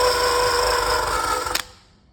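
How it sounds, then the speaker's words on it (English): A steady whirring eraser wheel grinds residue off the paint of a 2003 Acura CL Type-S, a continuous close buzz that cuts off near the end and fades to silence. "I'm rubbing away that stuff with the eraser wheel."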